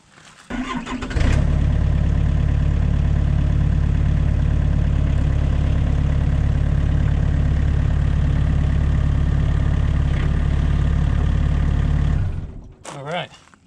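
A Komatsu PC40 mini excavator's diesel engine starts and runs at a steady, loud, close idle while the machine rolls forward, holding for about eleven seconds before cutting off abruptly.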